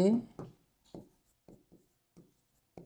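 A marker or chalk writes on a board during a numerical analysis lesson, producing short separate scratchy strokes with pauses between them, close and fairly quiet, with no one talking.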